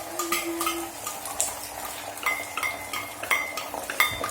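An egg fries in hot oil in a home kitchen pan, a soft crackling sizzle broken by light scrapes and clinks of a spatula, with no talk over it.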